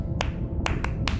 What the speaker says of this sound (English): Sperm whales make clicks in sort of rhythmic patterns that we call codas.